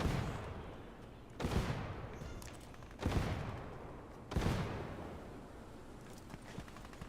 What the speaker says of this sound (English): Shit, where are they shooting?